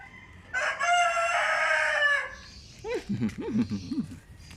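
A rooster crows loudly once, a long drawn-out call, followed by a few short clucking sounds from nearby fowl.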